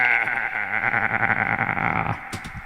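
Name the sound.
voice imitating an aggressive goat bleat, played on a cassette tape loop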